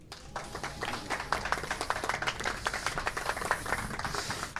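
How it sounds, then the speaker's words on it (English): An audience applauds at the California Jazz & Blues Museum Hall of Fame induction ceremony, with dense, continuous hand clapping that swells after the first moment and holds steady throughout. "Give a round of applause for his assistant deputy for communications and special projects, Miss Ariana Drummond."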